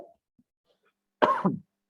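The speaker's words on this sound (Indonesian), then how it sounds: "Bapak batuk." A single short, harsh cough from a man, close by, following near silence.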